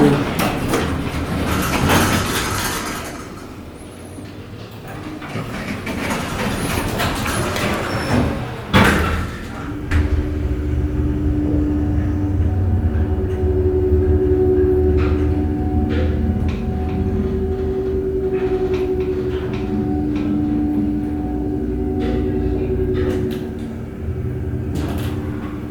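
A Dover hydraulic elevator at the Stanford University Bookstore rumbles and clunks as its doors slide and thud shut, followed by a steady low hydraulic hum and faint whine as the car travels, with scattered clicks.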